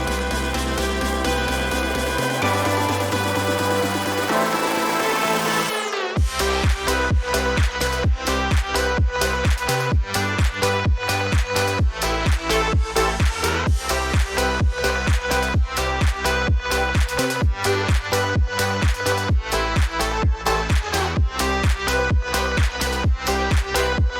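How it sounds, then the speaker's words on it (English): Progressive house track made in FL Studio: a sparse, held intro gives way at about six seconds to a loud, full drop with a steady pounding kick, bright synths and thick bass that runs continuously to the end. "It is a progressive house and the track sounds like this."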